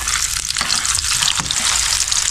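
Bananas fry in hot oil in a pan for breakfast, a dense, steady sizzle and crackle up close, with a few soft clinks of stirring.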